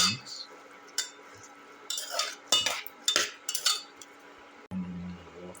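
A spoon scrapes and clinks against a pan while stirring a lemon, tomato and rosemary rice mixture, giving irregular scraping strokes and taps close up over a faint sizzle, with no talk.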